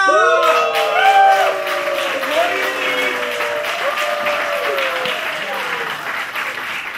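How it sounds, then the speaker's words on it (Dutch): An audience at a revue show gives a round of applause, with dense clapping and a few cheers mixed with overlapping voices and shouts from the crowd. "Ontvang haar met een daverend applaus."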